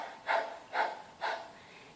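A person imitates a dog panting as a breath of fire exercise, three evenly spaced, forceful breaths in and out through the mouth with the tongue out, close and clear against a quiet background.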